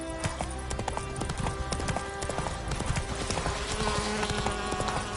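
Roach the horse gallops in The Witcher video game, its hooves beating a rapid, steady clip-clop that stays close and continuous over a layered game soundscape.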